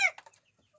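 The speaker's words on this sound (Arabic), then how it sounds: "شايفين الفراخ دي كانت ما شاء الله 35 فرخ وديك" A single short cluck from a farm flock of chickens and a rooster, heard close and alone, then quiet.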